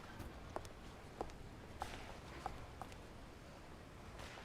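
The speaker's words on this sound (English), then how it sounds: "I heard footsteps behind me, and turned around." Footsteps in the video game Zero Escape: Virtue's Last Reward, five or six slow, evenly spaced steps, faint and close, over a quiet background hum.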